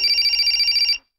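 A telephone bell rings loudly and continuously for about a second, a bright, steady electronic trill that cuts off abruptly into silence.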